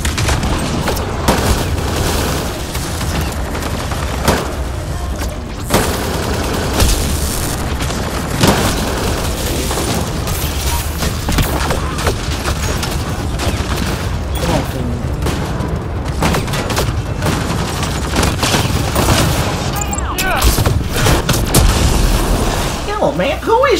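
Battle sounds from Mass Effect: Andromeda, continuous gunfire and heavy booming explosions layered throughout, loud and dense from start to finish with little letup.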